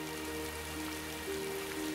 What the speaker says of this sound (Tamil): இடியுடன் மழையும் பெய்தது